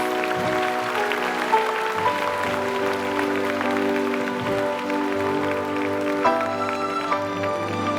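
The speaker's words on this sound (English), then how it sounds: "Ladies and gentlemen, please give our school presidents a round of applause." Applause from an audience at a Singapore Sports School anniversary awards night greets the school council presidents, mixed with sustained musical tones playing over the clapping throughout.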